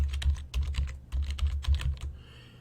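Rapid keystrokes on a computer keyboard, a steady run of close, crisp clicks with small pauses, ending in a brief quiet stretch, with no talking.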